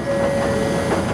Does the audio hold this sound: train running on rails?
yes